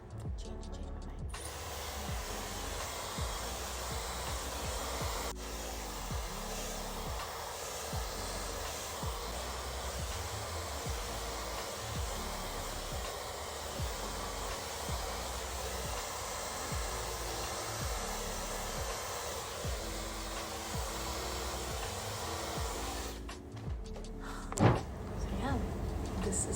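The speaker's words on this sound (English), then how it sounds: "I'm going to just quickly diffuse it" Hair dryer fitted with a diffuser runs steadily while drying curly hair styled with mousse and gel, a continuous close whooshing hum with small shifts as it moves, switching off near the end.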